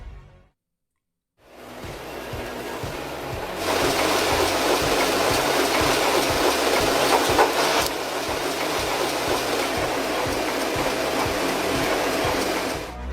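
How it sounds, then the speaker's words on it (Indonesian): A special banknote serial-numbering machine runs with steady, loud mechanical clattering and a rapid rhythmic clicking that picks up after a brief silence, then continues as a dense, continuous industrial rumble. "uang yang hampir jadi ini masih harus diberikan nomor seri dengan mesin khusus"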